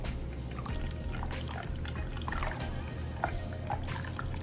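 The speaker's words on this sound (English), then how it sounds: "I'm going to pour it in there until it reaches the fill line" A homemade ice cream mixture pours through a funnel into a spoutless ice cream maker bowl, giving a soft, continuous liquid trickle with faint drips and light clinks close by.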